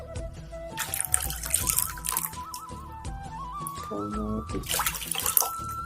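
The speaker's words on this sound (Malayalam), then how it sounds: "ഇതിലേക്ക് നമുക്ക് ആവശ്യത്തിലുള്ള വെള്ളം ഒഴിച്ചു കൊടുക്കാം" Water is poured into chana dal for a Kerala sadya koottucurry, a close splashing pour with rising gurgling tones, with a faint voice in the background.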